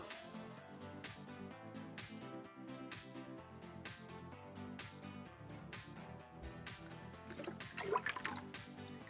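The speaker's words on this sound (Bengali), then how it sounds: "এই যে জবা গাছে একটু জল দিচ্ছি।" Water is poured onto a hibiscus plant, making a faint trickle with a rapid series of soft splashes and drips, quiet and close.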